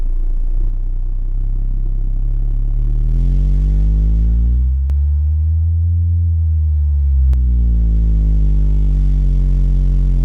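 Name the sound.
bass sweeps on Resilient Sounds Gold V2 15-inch subwoofers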